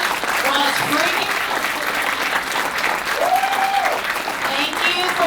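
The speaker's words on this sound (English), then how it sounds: "Can I get a round of applause?" A room full of people at a New York enterprise tech meetup clapping in sustained, dense applause that stays loud for the whole stretch, with faint voices and a brief whoop mixed in.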